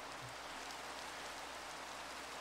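Rain falls in the video game Minecraft as a steady, soft, even hiss that stays quiet and unchanging, with no voices over it.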